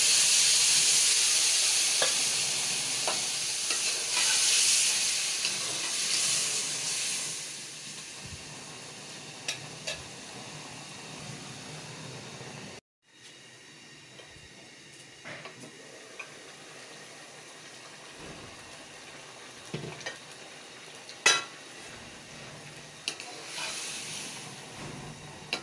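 Chicken karahi sizzles steadily in the pan after yakhni stock is poured in, with bright hissing frying that eases off and fades partway, then soft bubbling and occasional clinks, fairly quiet and without voices.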